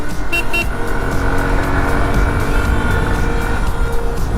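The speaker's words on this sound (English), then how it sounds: "I don't know if you can hear the exhaust note." A loud, steady engine drone from a Yamaha motorcycle rumbles continuously up close, its exhaust note holding a constant pitch.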